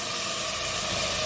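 Mutton spice paste sizzles and hisses steadily in a hot pan as a splash of spice water is added, a soft continuous frying crackle heard close up with no voices.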